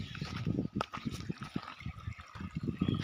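Water from a borewell flowing out of a pipe on farmland, a soft, close splashing trickle with uneven gurgling pulses throughout.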